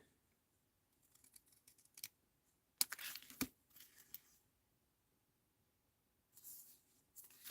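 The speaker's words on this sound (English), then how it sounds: "Just going to have to do it very carefully with scissors." Scissors cutting carefully through paper during card making with stamped trees, giving faint scattered snips, a louder burst of slicing and rustling in the middle, and a last short stretch of cutting after a quiet gap.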